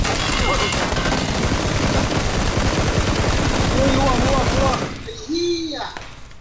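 Dense, loud automatic gunfire from PlayerUnknown's Battlegrounds rattles nonstop for about five seconds, then cuts out, leaving a few quieter in-game sounds and shouting voices.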